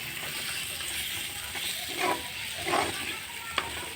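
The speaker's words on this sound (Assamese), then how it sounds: "এতিয়া বিলাহীটো ভাজি হোৱালৈকে অলপ টাইম লৰাই দিম মই" Tomatoes with spices fry in a pan with a continuous low sizzle, broken by a few soft scraping stirs and a sharp tap near the end.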